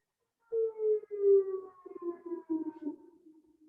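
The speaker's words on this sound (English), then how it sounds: "Oh, somebody else has a siren going." Civil defense siren wailing outside, a single long tone that slowly falls in pitch and pulses as it fades, heard alone with no talking.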